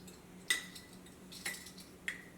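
A spoon scoops Nescafe instant coffee into a bowl, giving three light, quiet clinks spaced about a second apart over a faint background hum.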